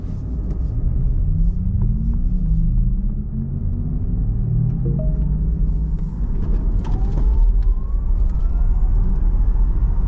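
Porsche Taycan electric car accelerating onto a highway, a steady loud road and tire rumble with a rising motor whine sweeping upward throughout, no talking.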